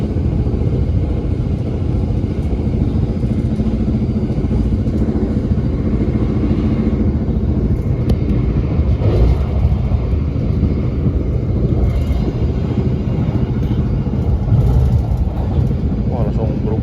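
Indonesian KA Kertanegara economy-class passenger train running at about 117 km/h, heard from inside as a steady loud rumble and clatter with wheel-on-rail noise and faint talk mixed in.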